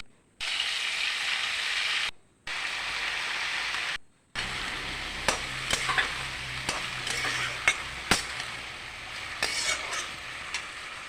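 Food frying in a pan with a constant bright sizzle, cut by two short gaps, followed by repeated clinks and scrapes of a utensil stirring against the pan; no voices.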